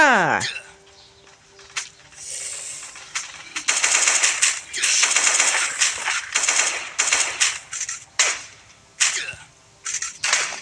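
Bursts of gunfire in the zombie survival game Last Day on Earth: Survival, with rapid irregular shots at close range and a few pauses between volleys.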